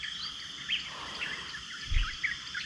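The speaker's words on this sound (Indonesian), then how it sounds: "Oh, ada bunyi burung." Birds chirp and twitter faintly in the distance on a mountain at Gunung Tahan, over a steady outdoor hiss of insects, with a soft low thump partway through.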